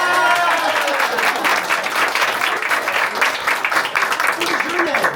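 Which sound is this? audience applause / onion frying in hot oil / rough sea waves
audience applause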